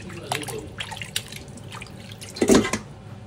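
Raw chicken is washed under running tap water in a sink, with close splashes and drips and a louder gush of water about two-thirds of the way through.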